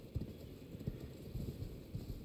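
A horse's hooves clip-clop in a PS5 video game, a quiet, irregular series of low thuds repeating over a couple of seconds, with no talking.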